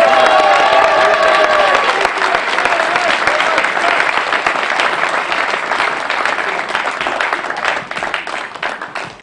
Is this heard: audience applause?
yes